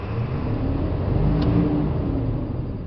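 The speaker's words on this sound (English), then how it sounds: "Let's give her a little throttle and see what it does." Ford F250 engine given a little throttle from idle, rising into a smooth, steady rev with a broad whirring drone, close and even in level and heard alone.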